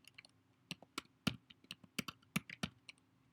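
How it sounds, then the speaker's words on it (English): Typing on a computer keyboard during a screen-recorded lesson, a quick run of crisp key clicks in an uneven rhythm, close and clear with no talking. "here is where I type in the content"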